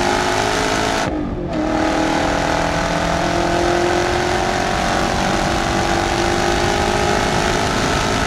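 A Ford GT engine at full throttle makes a loud, continuous roar that climbs steadily in pitch, close and dominant, with a brief dip in the high end near the start and no speech.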